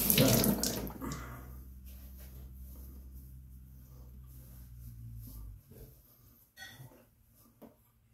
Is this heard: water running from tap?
yes